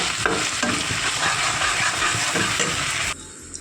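Garlic paste, ginger paste and tomato paste sizzle as they are stirred in a hot pan for a yogurt chicken curry. Steady, close frying hiss with scraping stirs cuts off abruptly just before the end, with no talk.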